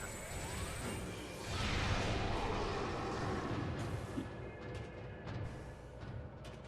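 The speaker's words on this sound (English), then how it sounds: "Waiting for that stupid turret to stop firing at me." Metroid Prime's standard turret keeps firing in a steady, dense, loud barrage of blasts and whooshes at close range, with no talking.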